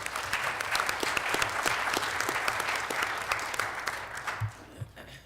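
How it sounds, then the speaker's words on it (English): Enthusiastic applause from a city council meeting audience honoring the mayor, a dense burst of clapping that fills the room for several seconds, then thins into scattered claps and fades. "let's give a round of applause to our mayor for the fantastic job he's been doing for our city."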